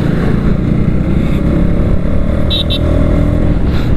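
A 2021 KTM Duke 200 BS6 motorcycle riding at steady speed, a loud continuous engine drone with wind rush close to the rider, no speech heard.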